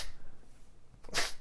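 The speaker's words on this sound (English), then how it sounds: "I'm sneezing in the book." A person gives a single short, sharp sneeze near the end of a quiet moment, with faint breathing and room noise before it.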